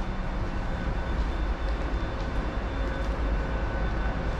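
Train running along the rails, heard from inside a carriage on a trip around Hull in Yorkshire: a constant, dense rumble and rushing hiss with no break, steady and close throughout.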